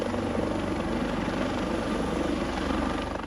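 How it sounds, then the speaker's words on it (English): Rescue helicopter hovering in Second Life, a steady, dense rotor and engine roar that stays loud and constant throughout with no voices. "The rescue pilot brings the chopper to a hover over the scene"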